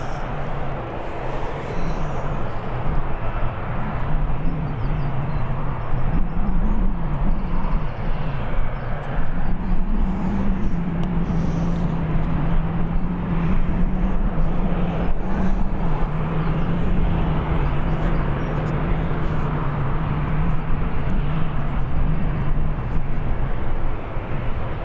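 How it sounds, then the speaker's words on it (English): A jet airliner bound for Barcelona at Birmingham Airport, a loud sustained engine roar with a steady droning tone that holds through most of the stretch, no voices. "Jet to Barcelona."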